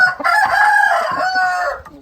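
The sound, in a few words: rooster crowing, Thai fighting cock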